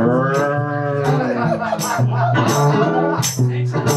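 A voice imitates a cow, drawing out a series of loud, low, sustained moos close to the listener, with short breaks between them and no other sounds.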